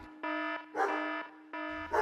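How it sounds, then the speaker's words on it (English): Dogs bark in short sustained bursts, three loud barking spells close by with brief gaps, the calls harsh and tonal. "dogs awake from their Christmas slumbers and go crazy"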